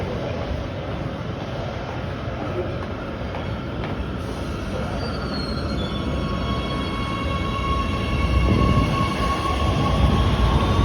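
An Oslo metro train rolls along the track with a loud continuous rumble, steady wheel roar that swells toward the end, and thin high squeals and whines sliding in over the noise partway through.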